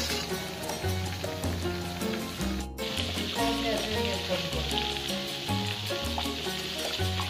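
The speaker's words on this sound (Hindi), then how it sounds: "ये भी इसी तरह 15 मिनट फ्राई करेंगे, बिल्कुल हल्की आंच पर।" Chicken leg pieces frying gently in oil over low heat make a continuous, even sizzle throughout, heard under background music with a brief dropout partway through.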